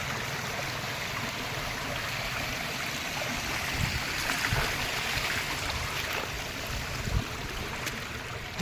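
Rainwater from heavy rain spills over a farm field embankment, a steady rushing, trickling flow that stays even and continuous throughout, with no voices.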